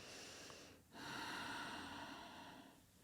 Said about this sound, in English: if you hear me breathing a little bit oddly, it's because I use the Ujjayi breath